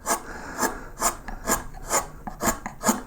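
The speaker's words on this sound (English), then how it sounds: "So here I am carving" A flat gouge skims the surface of a piece of wood in close, even rasping strokes, roughly two per second, with no talking.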